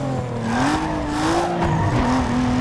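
A car in the racing video game Need for Speed Underground 2 brakes hard, its engine droning while the tires let out a sustained, wavering squeal across the whole moment.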